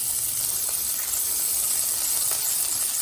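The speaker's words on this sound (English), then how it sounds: "So now, I'm going to add my pork. Give that sound, amazing." Minced pork sizzles in a hot, smoking pan, a steady bright hiss throughout with faint crackles, close and even in level.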